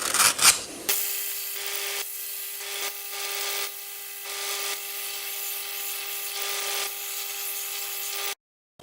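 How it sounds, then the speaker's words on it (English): A recycled knife's sheath sanded to shape: repeated rubbing strokes in a steady rhythm over a constant machine whine, close and fairly loud, stopping abruptly at the end. "I've sanded it to shape, cut a little bit of the length off because I thought it was a bit long"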